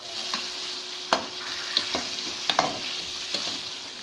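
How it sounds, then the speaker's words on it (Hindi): Chicken fries in hot oil in a karahi for Peshawari charsi chicken karahi, with a steady close sizzle broken by several sharp clinks and scrapes of a utensil stirring. "अब इसमें चिकन ऐड करके फ्राई कर लें।"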